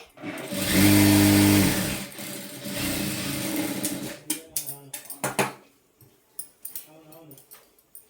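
A sewing machine runs in a sustained burst while stitching the side seam of a lehenga blouse, followed by shorter stops and clicks as the fabric is handled; a voice talks over parts of it.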